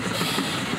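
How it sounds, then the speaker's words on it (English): A train rumbling past close to a train station, a brief steady roar of wheels and rail noise filling the moment, loud and continuous with no talking. "that's the train."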